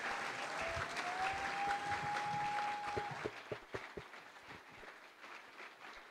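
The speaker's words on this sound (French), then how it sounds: "aidez-moi à accueillir le pasteur Atom sous nos acclamations." An audience applauds to welcome a pastor at a church gathering, steady close clapping for about three seconds that breaks into scattered individual claps, with a sustained tone over the start.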